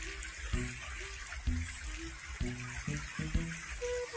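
A river flows past its bank near a mountain, with a steady rushing hiss throughout and short tonal sounds popping out above it at intervals.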